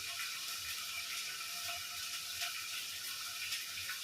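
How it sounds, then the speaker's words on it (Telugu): A steady, soft hiss of water running or pouring continuously, fairly quiet and even throughout, with no voices. "నీళ్ళు పోసుకుంటున్నాను"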